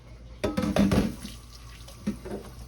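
Water poured into the bottom of a lipped baking pan to make a water bath for butterscotch bread pudding, a short splashing pour near and clear, followed by a brief second splash, no talking.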